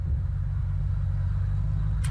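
A car engine drones steadily in the survival game Unturned, a low continuous rumble of a battered vehicle running low on fuel, with no talk over it.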